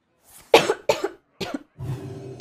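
A person coughs close up in three or four sharp, separate bursts, followed by a brief low rasp, with no other speech.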